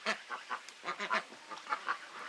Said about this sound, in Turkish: Baba ördek de bu arkadaşlar.